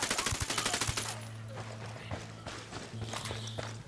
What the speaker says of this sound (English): Bowman, we just traded gunshots with a bunch of thick-skinned Sicarios here in Espiritu Santo.